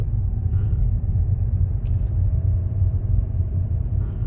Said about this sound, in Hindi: सेकेंड गियर में गाड़ी चल रही है ना तो 30 तक चला सकते हैं।